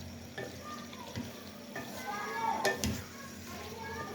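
Mixed vegetables, including potatoes and radish leaves, frying and being stirred in a pan, with a steady low sizzle and a few scraping stirs, while a voice talks over the cooking.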